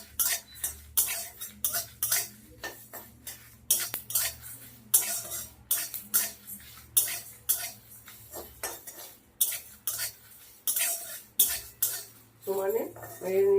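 Spices such as coriander seeds are dry-roasted without oil over medium heat for a mango pickle. A spatula scrapes and rattles through them in a regular, repeated rhythm of close strokes, and a brief voice comes in near the end.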